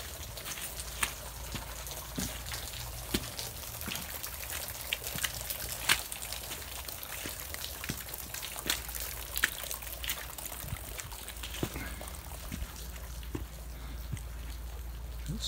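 Water laps gently in a sheltered bay, a faint soft trickling and splashing with small irregular clicks, steady and quiet throughout with no one talking.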